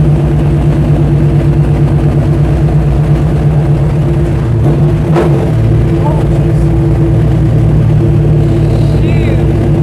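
A 1968 Dodge Charger's V8 rumbles deep and loud from inside the moving car, a steady low drone with slight throttle swells and occasional cabin noises.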